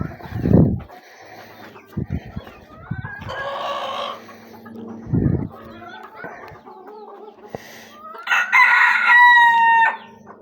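Roosters, a Fizan and a Coshin, crow loudly and repeatedly in a tense squabble. Harsh bursts and clucks come close by, with sharp flapping thumps in between.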